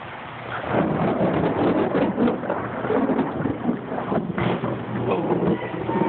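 A lightning storm delivers a heavy, continuous roar of rain and rumbling thunder, dense and fairly loud throughout about six seconds, with no clear speech over it.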